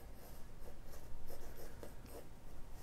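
Quick gestural drawing strokes scratch across newsprint paper in a classroom setting, a close, continuous run of rubbing marks with short bursts and pauses between sweeps, no voices.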